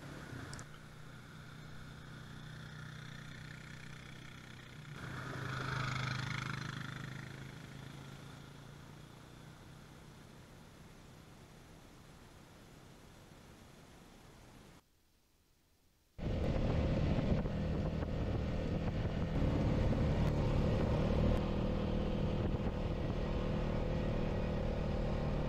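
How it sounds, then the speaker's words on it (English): A car climbs Moose Mountain Road past dug potato fields, its engine drone and road rumble steady, then louder and fuller after a brief dip, with wind buffeting the microphone throughout. "Driving up the Moose Mountain Road here."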